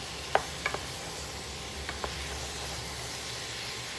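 Curried sausages simmer in a pan with a soft, steady sizzle as a utensil stirs them, giving a few faint clicks and scrapes against the pan. No one talks.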